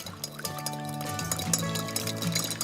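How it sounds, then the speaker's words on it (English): Water trickles into a lemon juice and extra virgin olive oil dressing as it is whisked, a soft continuous pour with faint clinks of the whisk against the bowl, close up and with no talking. "I'm gonna add water a little at a time"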